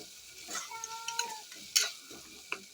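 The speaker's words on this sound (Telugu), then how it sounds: "ఫ్రై చేసుకోండి. బాగా కలయపెట్టండి." Ginger garlic paste with a little turmeric is fried and stirred in a pan for mutton curry, with soft sizzling under scattered scraping taps of a spoon against the pan, close and fairly quiet.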